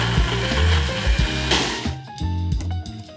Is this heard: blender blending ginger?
yes